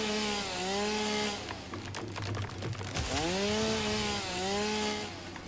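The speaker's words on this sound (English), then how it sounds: "this is so nice that I finally got the chainsaw" A chainsaw cuts down trees in the video game Satisfactory, a loud, steady whining buzz that rises and falls in pitch as it bites through wood, running continuously with no talking.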